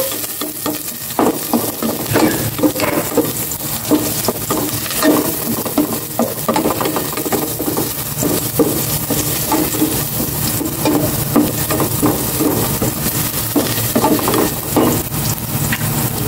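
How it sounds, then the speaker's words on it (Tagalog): Garlic sautés in hot cooking oil in a pan, a steady loud sizzle and crackle running throughout with frequent stirring scrapes and clinks, close by and without talk. "Igisa ko na itong bawang."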